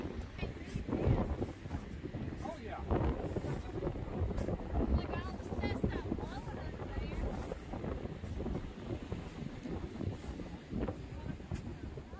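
Strong wind blasts across a beach on Cape Lookout during a sandstorm, buffeting the microphone in loud, gusty roars with a hissing rush of blown sand, and voices talk beneath it.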